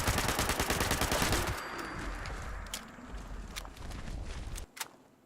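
Rapid automatic bursts from the Perfect Storm 10mm SMG in Fallout 76 rattle loudly and continuously, then break into scattered single shots and clattering impacts as the firing tapers off.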